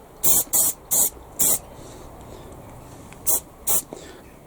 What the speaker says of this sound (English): So I'm just going to give these a quick spray.